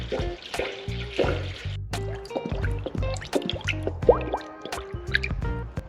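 Water glugs and splashes unevenly as it is poured into a 1988 Honda CRX Si, with irregular gurgles and drips close by.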